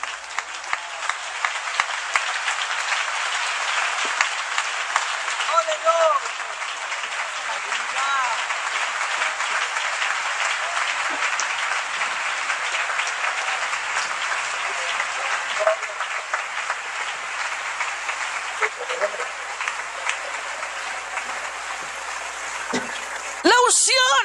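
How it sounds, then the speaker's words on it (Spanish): Sustained applause from a church congregation during an afternoon Spanish-language sermon, steady and dense for over twenty seconds, filling the room like rain, with a voice speaking briefly over it near the end. "Entonces ríndale ese aplauso a él."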